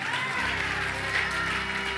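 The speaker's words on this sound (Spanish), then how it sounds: "Aplaude a Dios ahora, aplaude." A church congregation applauds, a dense wash of many hands clapping at once over a sustained musical tone, loud and continuous for the whole moment.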